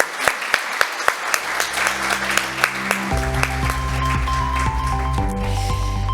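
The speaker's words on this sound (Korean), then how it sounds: "박수 한번 부탁드리겠습니다." Steady applause from an audience at a Korean green-building awards ceremony fills the hall, with a few sharp individual claps at first, then dense clapping over sustained background music tones.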